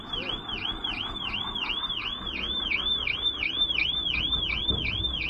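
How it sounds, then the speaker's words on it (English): A car alarm sounds continuously, its siren sweeping up and down in a steady repeating whoop, loud and close, over low background rumble with faint talk. "At least you know the alarm works on it."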